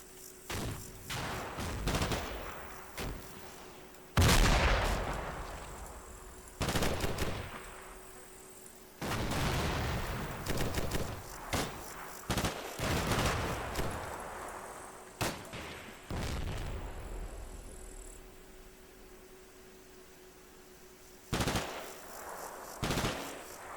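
Gunfire in the Combat Mission war game comes in irregular bursts of machine-gun fire and single sharp shots, some loud and near, others more distant, separated by short quiet gaps.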